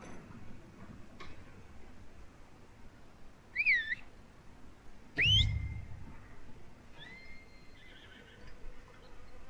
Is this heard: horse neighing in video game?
yes